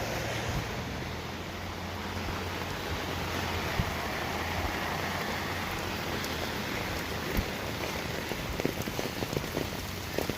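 Heavy rain pours steadily onto sidewalks, a dense, continuous hiss of drops with occasional nearer splashes, close and unbroken, without any voices.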